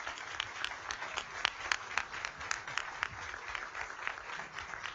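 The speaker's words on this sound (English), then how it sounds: "And give them a round of applause." An audience applauds at a panel event on maternal health with Sanders, Boozman and Hill. Crisp individual claps stand out over a moderate, steady patter that lasts several seconds.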